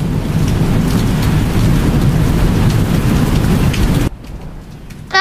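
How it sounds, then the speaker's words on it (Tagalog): Heavy typhoon rain pours in a dense, loud, steady roar that cuts off abruptly, leaving a quieter lull before a rising tonal sound at the very end. "Naku po, sobrang lakas na ulan."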